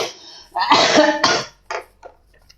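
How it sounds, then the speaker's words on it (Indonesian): A person gives a short, harsh cough or throat-clear in a couple of loud bursts, then a few fainter trailing coughs, close and alone. "lu batuk lu parah"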